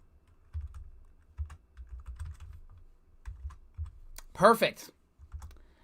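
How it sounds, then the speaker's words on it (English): Rapid typing on a computer keyboard sets up an irregular patter of soft key clicks. Someone speaks briefly over it during a livestream. "Let me just type this in real quick."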